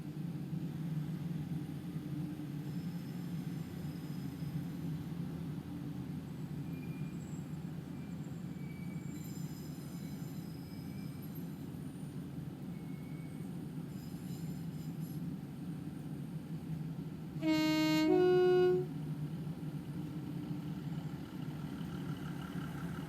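In Train Simulator, a Class 156 train on the Warrington Central to Liverpool Lime Street line arrives, rumbling steadily in the distance, a low continuous drone, with a brief bright squeal of wheels rising near the end.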